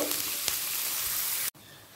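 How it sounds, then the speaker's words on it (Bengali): Chopped onions sizzle in hot oil in a pan during cooking of chicken do piaza, a constant close crackling hiss that cuts off abruptly near the end before resuming more quietly. "পেঁয়াজটা হালকা লাল করে ভাজা হয়ে গেছে।"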